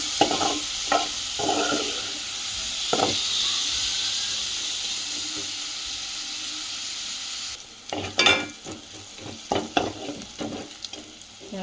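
Onions frying until brown for a raw mango and dried fish curry, a loud steady hiss of sizzling oil, with scattered stirring scrapes that grow busier toward the end, close up, with no voices.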